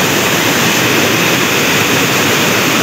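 Typhoon floodwater rushing past houses, a loud, steady roar of torrential water filling the whole clip with dense broadband noise and no voices.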